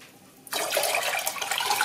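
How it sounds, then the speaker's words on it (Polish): Tap water gushes into a cooking pot for brining dill cucumbers, starting abruptly and then a steady, loud splashing rush. "Do garnka wlewam wodę."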